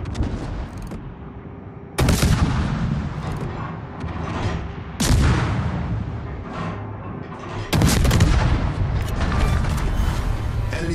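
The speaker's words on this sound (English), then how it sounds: "All stations, concentrate fire on the target. Concentrate fire on the enemy warship." Main guns of the warship Gdańsk firing in World of Warships: three heavy, booming salvos spaced a few seconds apart, each followed by a long rumbling tail over steady background noise.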